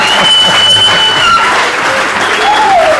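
A church congregation applauds loudly and continuously to acclaim the Lord, a dense close wash of clapping with a few voices mixed in.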